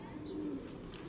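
A racing pigeon gives one soft, low coo up close, brief and gentle against a faint background hum.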